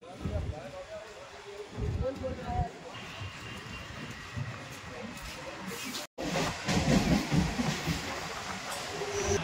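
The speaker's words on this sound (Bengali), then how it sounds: "একটা ট্র্যাক থেকে অন্য ট্র্যাক থেকে আরো অপর একটি ট্র্যাকে আমাদের ট্রেন এখন যাচ্ছে" A local train on the Howrah to Mayapur line rumbles along close by, switching across tracks, wheels rattling and clattering over track joints, with a brief cut partway through before the loud rolling noise resumes.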